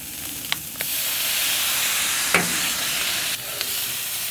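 Shrimp sizzle and fry on a hot griddle as soy sauce goes in, a steady bright hiss with a few sharp spatters and scraping stirs, no talk.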